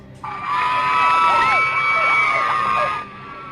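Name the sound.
crowd cheering as convicted man is led away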